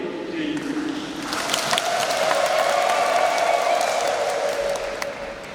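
Congregation at a thanksgiving Mass for a priest applauding and cheering, a steady wash of clapping and crowd noise that swells after the first second and holds, fading slightly at the end.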